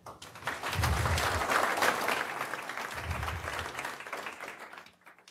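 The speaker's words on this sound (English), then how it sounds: "round of applause for Conrad" Audience applause at a Go programming conference talk greeting speaker Conrad, a sustained burst of many hands clapping with some low rumble, fading out toward the end.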